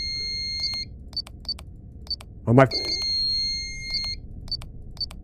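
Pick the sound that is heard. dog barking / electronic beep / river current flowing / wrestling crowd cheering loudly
electronic beep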